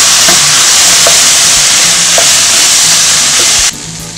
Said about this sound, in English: You're going to want to stir occasionally, making sure the vegetables are nicely softened